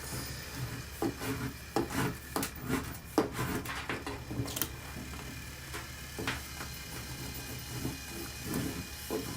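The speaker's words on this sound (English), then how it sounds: "So you scrape the front." Vinyl decal scraped onto an epoxy-coated marble tumbler gives repeated short rubbing and scratching strokes, close and fairly quiet, with no talking.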